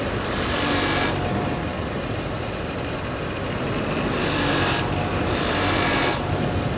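Filing or rasping strokes deburring freshly cut aluminum angle, a steady close scraping texture with a few louder passes near the start and end, no voices.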